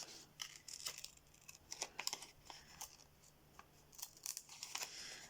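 Scissors snip through fabric while cutting out a shorts shape, a quiet, close series of irregular crisp cuts and rustles with short pauses between strokes.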